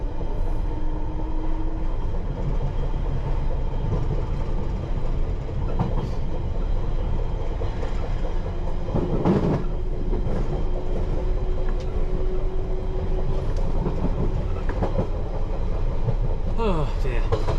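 A London Underground Piccadilly line train running between Northfields and Earls Court, with steady loud rumble, motor whine and occasional squeals and clatter throughout, a voice speaking over it now and then.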